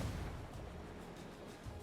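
A thrown frag grenade going off in a first-person shooter video game produces a muffled, rumbling boom that rolls on as a low, steady roar.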